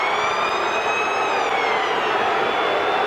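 A full-time siren at a 1996 rugby league stadium match between the Raiders and the Knights gives a sustained, steady wailing tone over a constant loud crowd roar.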